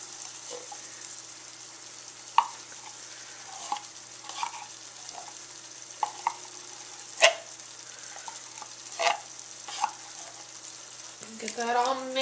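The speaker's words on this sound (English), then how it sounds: "Get that all mixed together. Try to break down that tomato paste a little." Tomato paste is stirred into spaghetti sauce frying in a pan, with a soft steady sizzle under repeated scraping strokes and sharp clacks of the spoon against the pan, close and moderately loud.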